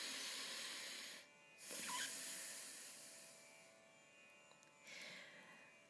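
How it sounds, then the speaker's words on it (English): A person breathes softly through the nose during a yoga breathing exercise. Two quiet, airy exhales come a few seconds apart in a hushed, still room. "the sound that would come if you were creating a sound through the nose"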